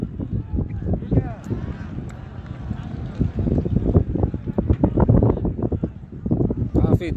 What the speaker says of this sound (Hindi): काफी तेज हवा है मैदान पे